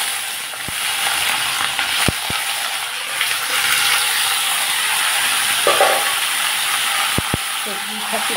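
Vegetables for a pui-leaf and fish chachchari sizzle in hot mustard oil tempered with black cumin, a steady close frying hiss broken by a few sharp utensil clicks and scrapes, with faint talk in places.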